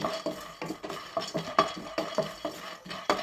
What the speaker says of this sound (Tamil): ஒரு வானல் எடுத்துக்கிட்டு இந்த வேர்க்கடலையை வந்து நல்லா வறுத்து எடுத்துக்கிறோம்